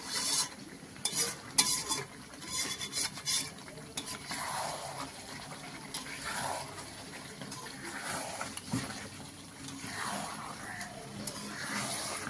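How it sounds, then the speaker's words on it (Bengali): Chicken curry with fried potatoes and capsicum is stirred in a pan, with scraping spoon strokes and a low sizzle rising and falling over about twelve seconds, a few clinks of utensils, fairly quiet and close. "আর এই যে ভেজে রাখা আলুটা এর মধ্যে দিয়ে দিচ্ছি"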